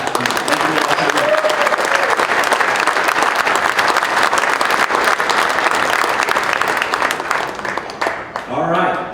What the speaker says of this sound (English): So I want us to give a big round of applause to our landowners and to our guides